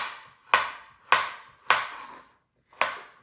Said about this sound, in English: So I'm going to chop up this last carrot.